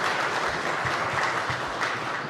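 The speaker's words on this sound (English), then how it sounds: "please give them a round of applause for me" Conference audience gives a round of applause at an opening welcome session, a steady wash of many hands clapping that holds evenly at moderate loudness for the whole stretch, with no talking over it.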